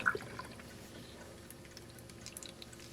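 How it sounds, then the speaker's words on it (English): A small Olelica pet water fountain runs nearby, faint trickling and light dripping of water with a few soft splashes in a quiet room. "Now this may produce a little water splashy sound."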